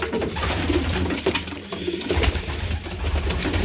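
Young pigeons coo softly in a loft on a Sunday morning, low throaty burbling calls overlapping steadily and close by, with no talk.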